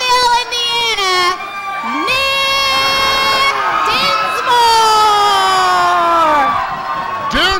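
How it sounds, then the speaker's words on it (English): A loud wrestling crowd cheers and shouts throughout, with high-pitched whoops and screams from children at a 1998 OVW TV event, sustained and close with no letup. "you hear the crowd response to these two young guns"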